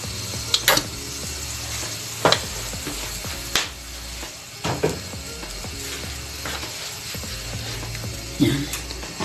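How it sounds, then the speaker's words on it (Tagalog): Cooking oil heats in a hot wok with a low continuous sizzle, broken by several sharp metallic scrapes and clanks of stirring at irregular intervals. "Itin natin ang ating kawali. Init-init na siya. Tapos, lagyan natin ng cooking oil."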